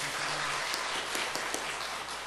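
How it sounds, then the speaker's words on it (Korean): Applause at a church prayer meeting, a steady, dense patter of many hands clapping together throughout, fairly loud and close with no pauses. "우리 한번 박수하겠습니다."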